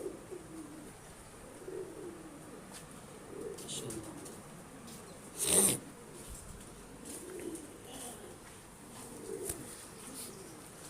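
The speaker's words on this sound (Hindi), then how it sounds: "ये दोस्तों देखिए कैसा खूबसूरत कबूतर" Soft pigeon cooing repeats in low, rolling phrases against a quiet background, with a brief burst of noise midway and a single short spoken word.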